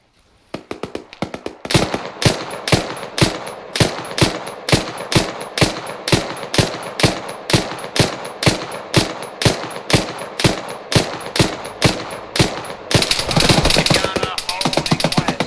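A .50 cal machine gun in ArmA 3 fires slow, evenly spaced heavy shots, about twenty booming rounds in a steady rhythm, ending in a denser roar of gunfire.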